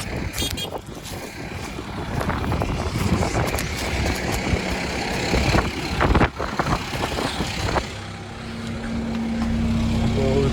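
A Kubota tractor engine runs steadily with a continuous low rumble, mixed with wind buffeting and clunks, while people talk over it nearby.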